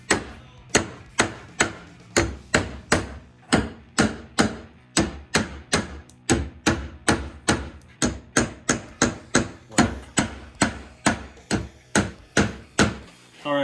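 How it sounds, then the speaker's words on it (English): A hammer drives a center punch into a ski at each marked drill point for a backcountry binding mount, giving sharp, close metallic taps in a steady rhythm of roughly two per second, about two dozen in all. "we're gonna center punch all of the drill marks so that we can drill this as accurately as possible"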